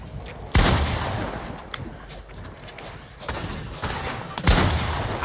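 Video game gunfire in a shooter match, several loud sharp shot bursts spaced a second or two apart over a noisy, busy background.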